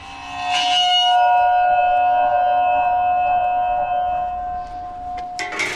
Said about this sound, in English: Blowing an ice bell on a tympano.